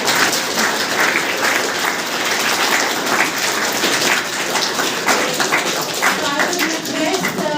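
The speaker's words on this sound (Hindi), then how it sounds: "तो ताली बजाना चाहिए ना" A school audience applauds a student speaker on stage, with steady, dense clapping that fills the whole stretch at close range and stays loud throughout, with some talk mixed in.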